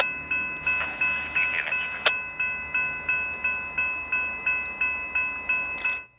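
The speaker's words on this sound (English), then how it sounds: "where CP train 929 is departing, headed for Saratoga" Rhythmic clanking of a Canadian Pacific freight train's rail cars passing steadily at moderate distance as it departs in upstate New York, with a sustained high tonal whine and a sharp bang partway through.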